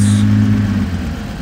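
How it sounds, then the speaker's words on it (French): A Jaguar Type C racing car's engine at the Charade circuit, heard as a loud, steady, low-pitched rumble that holds close by and then fades slightly over a second and a half. "Les plateaux de régularité remettent le moteur en route."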